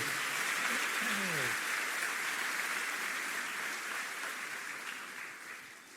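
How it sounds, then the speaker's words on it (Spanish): A church congregation breaks into strong applause, a broad steady wash of clapping with a brief voice at the start, gradually fading over several seconds. "Demos un fuerte aplauso"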